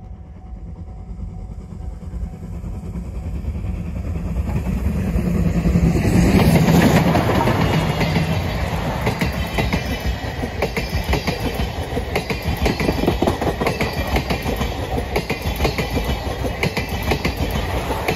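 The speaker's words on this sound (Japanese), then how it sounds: "SL がこうやってね、間近に走るとは迫力がありますよね" SL Banetsu Monogatari steam locomotive and its train passing close by at a level crossing, a loud rolling rumble that swells, peaks and carries on with steady rhythmic wheel clatter.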